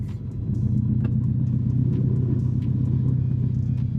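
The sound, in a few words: car engine running, starting to drive after months parked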